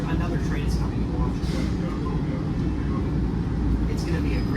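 A WMATA Green Line 6000-series metro train in Washington, a dense, steady rumble of wheels and motors rolling along the track, loud and close, with voices faintly heard.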